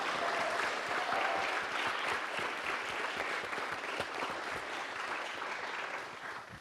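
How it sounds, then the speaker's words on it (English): An audience at a BET panel event applauds the panel, a sustained broadband crowd clapping with individual claps audible, steady throughout and tapering slightly at the end. "Let's clap it up one more time for the fellas."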